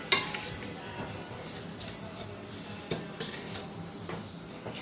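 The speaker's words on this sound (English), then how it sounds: "we're just going to give this a nice good mix up, kind of get everything distributed before we put our egg in there" A vegan veggie tot mixture gets stirred in a bowl, soft scraping and mushy stirring punctuated by a few sharp clinks of a utensil against the bowl, close up and without talk.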